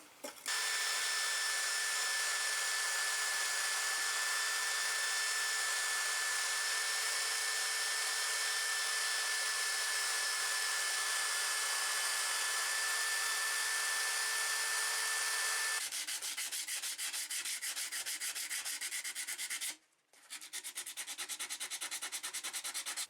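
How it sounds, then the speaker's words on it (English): A wire wheel strips paint from an axe head in a steady, loud, continuous whir and scrape that changes texture partway through, with a brief dropout near the end. "I'm going to use this wire wheel and remove all the paint."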